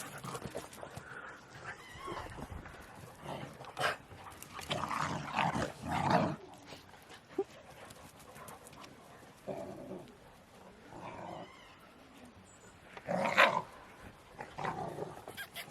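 Several puppies growl and yip playfully in bursts, close and fairly quiet, with scuffling between the outbursts.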